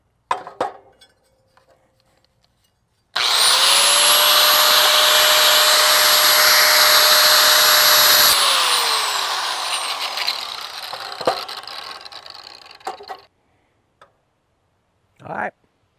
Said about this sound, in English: Then we just finish these little cuts up with a right angle grinder with a cutoff wheel